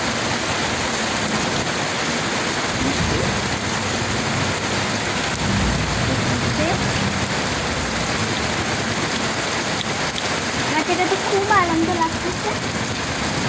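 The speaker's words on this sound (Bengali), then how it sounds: "আজকে হঠাৎ করে বৃষ্টি হতেছে খুব ভালো লাগতেছে দেখে" Rain falls in a steady, even hiss that fills the whole stretch without pause, with a faint voice briefly audible near the end.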